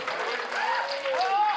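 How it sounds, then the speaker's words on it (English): A limited-capacity crowd at a pro wrestling show erupting in cheers and clapping, a loud continuous roar with shouts and a rising whistle, alone without commentary. "The limited capacity crowd here at the Vacationland Cup just came unglued for that one"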